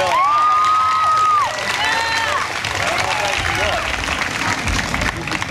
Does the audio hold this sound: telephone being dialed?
no